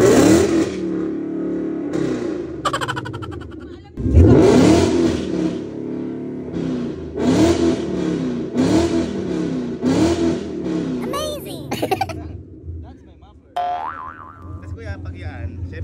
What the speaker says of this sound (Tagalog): Do you wanna hear my muffler?